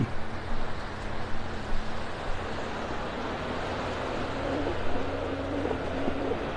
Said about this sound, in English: I hear a boat moving pretty fast down to the south.